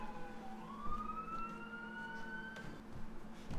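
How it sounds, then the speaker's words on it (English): Emergency vehicle sirens wail right outside a building, a steady rising tone sliding upward over a continuous low rumble of traffic, loud and close throughout with no voices. "we're just gonna go with the sirens. I think it's like right outside."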